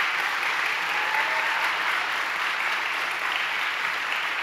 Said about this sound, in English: Can we give them a round of applause for accomplishing that?